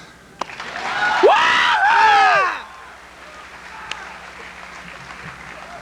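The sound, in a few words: audience applause at a graduation ceremony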